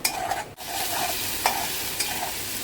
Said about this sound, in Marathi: हे सर्व मसाले छान पद्धतीने एकजीव करून त्याला तेल सुटेपर्यंत मीडियम फ्लेमवरती भाजून घ्यायचा आहे.